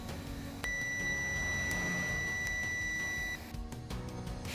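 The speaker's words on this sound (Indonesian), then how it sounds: "kalau buzzer bunyi kayak tadi itu artinya terhubung" A steady electronic beep from a multimeter's continuity buzzer, testing a Honda CBR 150 ABS speedometer circuit, holds for about three seconds over faint background noise, then cuts off.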